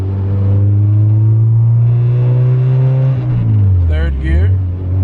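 A car engine pulls hard in second gear, a loud, steady close-up drone that holds its pitch and then dips briefly near the end as revs drop. A voice talks over the engine.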